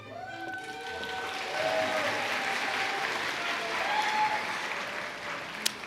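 An audience at a pharmacy school white coat ceremony in Herbst Theater applauds as students are called up. Sustained crowd clapping runs throughout at an even level with faint voices in it, and a sharp click comes near the end.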